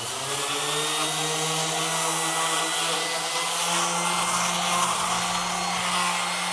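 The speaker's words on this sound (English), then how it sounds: "I have this little palm sander that I'm going to run like so." A small palm sander runs on old outdoor furniture with a loud, continuous buzzing whine. It sounds close and steady for several seconds, with no talk.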